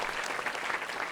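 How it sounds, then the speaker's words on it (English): Audience at a multiple sclerosis symposium applauding, a dense, steady patter of many hands clapping at close range for about a second. "I hope that you all can give them a round of applause"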